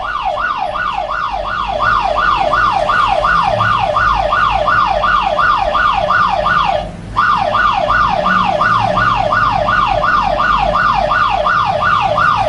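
Phone anti-theft app alarm blaring a loud, continuous wailing siren that sweeps up and down in rapid regular cycles, cutting out for a brief moment near the middle before resuming at full volume.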